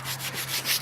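Short, faint burst of hand sanding on a car fender during paint prep on an S14, a soft hissing rub repeating in quick strokes.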